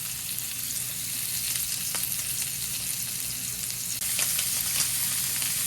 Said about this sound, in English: when we're done browning the other 2 pork chops here